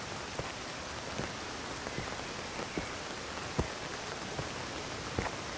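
A steady, heavy downpour of rain hisses evenly throughout, with occasional louder drops tapping nearby; no voices are heard.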